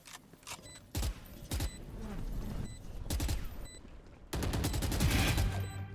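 Rapid bursts of gunfire and a heavier grenade blast in a competitive shooter video game during a collegiate playoff grand final, several clustered volleys ending in a sustained roar of explosion and shooting.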